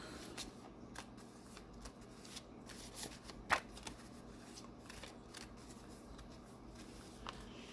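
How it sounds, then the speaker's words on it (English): A deck of action cards from the 'Point Blank' card game is shuffled a couple of times at the table. The riffling comes in soft, close, irregular bursts with one sharper snap, and nobody speaks. "shuffle the cards a couple times"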